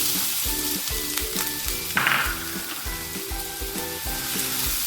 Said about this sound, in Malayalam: അതിലേക്ക് നമ്മൾ അരിഞ്ഞു വെച്ചിരിക്കുന്ന സവാള ചേർത്ത് കൊടുക്കുക